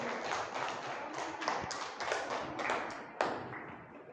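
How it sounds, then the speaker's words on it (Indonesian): An audience in a teacher-training classroom claps hands, a dense patter of individual claps with a few sharper louder strikes standing out, close and continuous. "Tepuk tangan semuanya."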